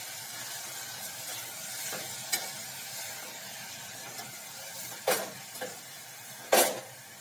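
Spinach greens are stirred in a pan during home cooking. A soft sizzle runs underneath a few scraping, clattering strokes of the stirring utensil, with the loudest scrapes near the end and no talking.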